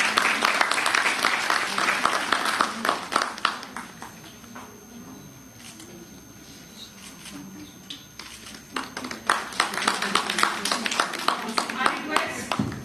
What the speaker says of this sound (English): A big round of applause for Professor Shashi.